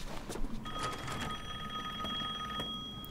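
A telephone rings in the survival horror game Resident Evil Village, a steady electronic trill that holds for a couple of seconds against a quiet, faintly textured game background.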